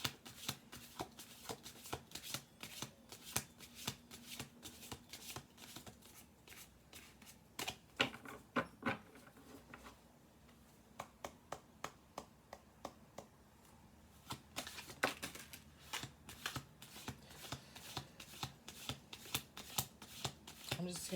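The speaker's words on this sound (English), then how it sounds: "I'm just going to do a few shuffle throughs of this" Playing cards are shuffled again and again, each riffle a quick rattling burst, with short gaps between rounds, close and crisp at low volume.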